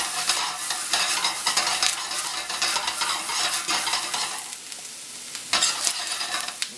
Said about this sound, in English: So we're going to scrape this pan at the bottom too and make sure we get up all that good flavor.